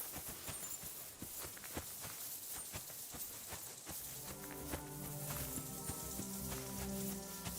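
An alpine horse in Kingdom Come: Deliverance II walks with faint, regular hoof clops, softly repeating over low ambient game sound and then fading under a steady background hum.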